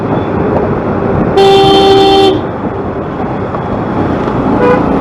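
Main-road traffic on the way from Ghaziabad to Bijnor, with one long loud car horn blast over a steady roadway rumble and a short second honk near the end.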